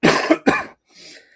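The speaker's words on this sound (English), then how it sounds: "if I keep coughing, I apologize" A person who is under the weather coughs twice in quick succession, close and loud, followed by a faint breath.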